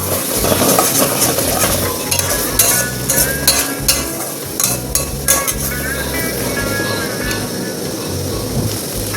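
Potatoes for aloo dum sizzle in a pan, stirred over and over with a spoon that scrapes and clinks against the metal, under a constant loud frying hiss.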